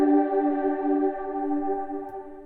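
A sustained choir chord swells and slowly decays, drenched in heavy reverb with a long, washy tail.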